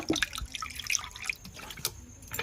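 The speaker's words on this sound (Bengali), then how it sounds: "এই জলের মধ্যে আরও একটু জল দিয়ে দেব" Water poured into a bowl of soaked tamarind gives close, intermittent drips and small splashes over about two seconds, with no talking.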